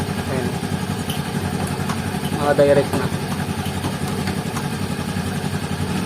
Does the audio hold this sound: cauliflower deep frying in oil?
no